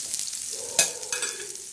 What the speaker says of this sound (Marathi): तव्यावर त्याच्यानंतर आपण ही दळलेली चटणी टाकणार